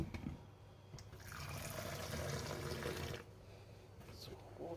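A stream of water pours steadily into a rice pot for a couple of seconds, with quieter clinks and handling sounds before and after.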